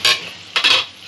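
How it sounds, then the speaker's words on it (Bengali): Onion and grated ginger fry in a pan for street-style egg chowmein, giving two short bursts of hissing sizzle as a spatula stirs them, close and loud. "একটু ভাজা হওয়া পর্যন্ত অপেক্ষা করব।"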